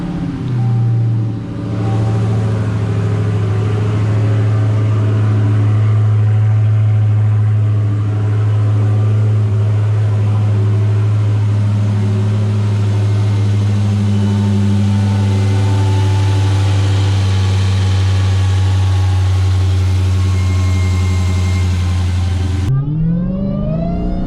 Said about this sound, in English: Haven't started the car in a few days, so nice to see this little cold start with this stock exhaust.